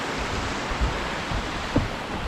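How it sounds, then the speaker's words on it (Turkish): A steady, even rush of falling water from a waterfall beside a running trail at Yedigöller, a continuous broadband hiss with a couple of faint bumps and no voices. "Şelale varmış burada."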